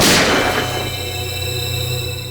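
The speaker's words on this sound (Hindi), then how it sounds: "सर गोली चलने की आवाज?" A single loud gunshot bangs out right away, then rings and fades slowly over a low steady hum.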